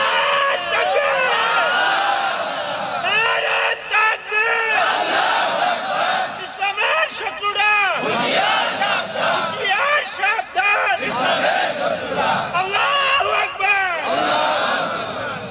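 A crowd at a Bengali religious gathering in Kurigram loudly shouts the takbir in repeated surging bursts of massed voices, with brief pauses between the cries.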